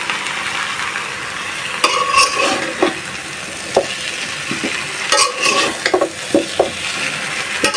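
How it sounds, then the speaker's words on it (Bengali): Mango pieces fry in oil for a sweet-sour pickle, a loud continuous sizzle close by, with intermittent clattering scrapes of a spatula against the pan. "তো 10 মিনিটের মতো ভাজবো তেলের মধ্যে, আমগুলো ভেজে তারপর চিনি দিব।"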